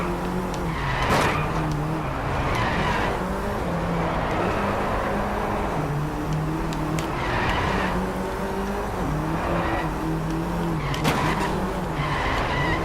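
Small race cars skid through corners in the Driveclub racing game on PS4, with engines droning and tires squealing repeatedly in a loud, continuous stream.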